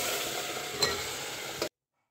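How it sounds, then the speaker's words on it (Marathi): Cooked chicken is poured into sizzling chicken curry, making a brief, steady frying hiss with a soft splash in the middle, before it cuts to silence. "आपण आता याच्यात चिकन ओतून घेऊयात।"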